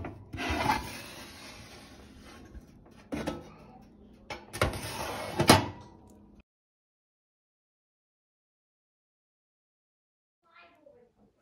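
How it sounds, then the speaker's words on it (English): A blade drags across a sourdough loaf partway through baking, cutting expansion scores in several quick rasping strokes with brief pauses, close and fairly quiet, followed by near silence with faint background noise. "now I'm going to do the expansion scores"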